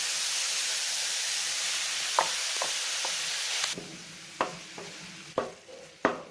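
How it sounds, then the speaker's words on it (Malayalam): Beetroot and ground coconut paste sizzle in a pan, a steady frying hiss that thins out partway through, followed by several distinct scraping stirs of a spoon against the pan. "ഇനി അരപ്പും കൂടെ ചേർത്ത് 1-2 മിനിറ്റ് നന്നായിട്ട് ഇളക്കി യോജിപ്പിക്കാം"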